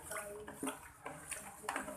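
Cleaning materials being mixed into a gallon of warm water for washing a kitchen floor, with close sloshing and swishing splashes in uneven bursts.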